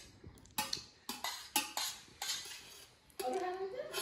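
Metal spoons clatter and clink against dishes in a series of sharp, uneven knocks up close, ending in a busier rattle with a voice faintly present.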